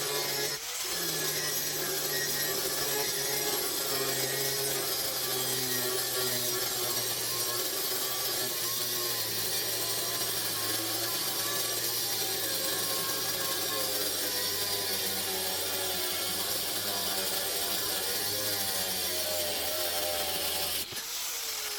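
Metal brackets for a boat trailer crane conversion get their angles cut, a steady, loud grinding or sawing drone lasting about twenty seconds with a slowly shifting pitch, stopping abruptly at the end; no one speaks.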